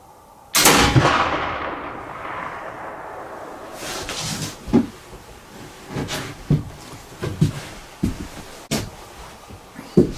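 A black powder rifle loaded with 60 grains of new Goex 3F powder fires one sharp, loud shot early on, then a string of fainter clicks and knocks from handling the gun follows.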